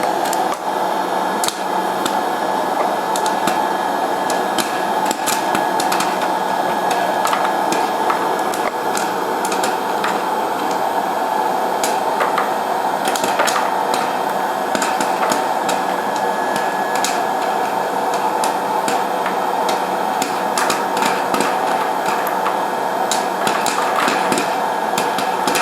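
Corn kernels pop in a Nostalgia air-pop popcorn maker, a steady scatter of sharp clicks over the constant whir of the machine's hot-air fan.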